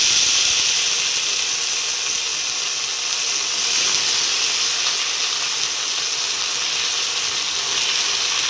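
Cabbage and potato fry in hot oil with cumin, bay leaf and green chillies, giving a loud, steady, close hiss and crackle that holds evenly throughout with no talking.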